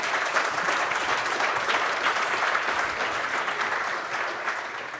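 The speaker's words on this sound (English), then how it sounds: "Great applause, please." A room full of conference attendees applauds a grid and renewables panel, steady dense clapping that holds for the whole stretch with no voices over it.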